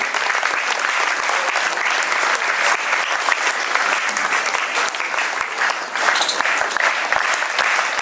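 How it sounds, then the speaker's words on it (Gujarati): An audience at a ceremony honouring a participant claps hard and steadily for about eight seconds, a dense even roar of many hands with no talk. "આપણે સન્માનને જોરદાર તાળીઓથી વધાવીએ"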